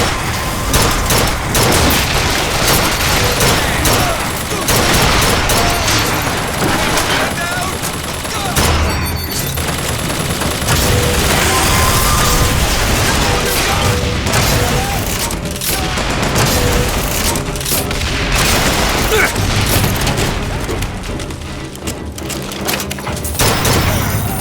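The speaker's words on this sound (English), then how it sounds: "Turret, now!" Turret gunfire summoned through a tear in BioShock Infinite: a loud, nearly unbroken barrage of rapid shots and heavy booms lasting well over twenty seconds, with voices talking beneath the din.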